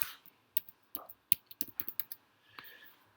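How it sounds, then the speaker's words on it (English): Quick typing on a computer keyboard, a burst of about a dozen crisp close key clicks in an uneven rhythm, ending with a softer keystroke, with no talking over it. "type in the word television"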